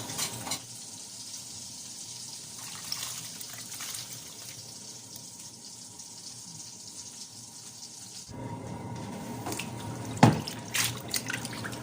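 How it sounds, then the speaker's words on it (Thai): Fresh Swedish red shrimp, trimmed of their feelers, rinsed under running tap water, with a steady hiss of flowing water that turns louder and splashier partway through, plus a sharp clatter near the end. "ล้างรอบสองค่ะเพื่อนๆล้างรอบสอง กุ้งแดงสวีเดนค่ะ กุ้งสด"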